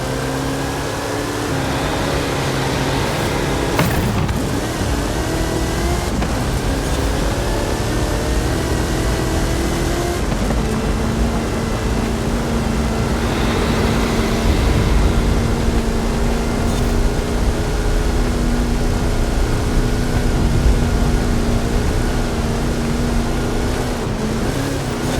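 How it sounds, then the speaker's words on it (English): A Hot Wheels car with a PEI XT1 chassis, 540 cubic inch Chevrolet engine and 66 inch Terra tyres in Forza Horizon 5 drones steadily at high volume, a continuous loud engine roar with shifting pitch and no talk. "PEI XT1 chassis, 540 cubic inch Chevrolet engine, 66 inch Terra tyres. It's a beast!"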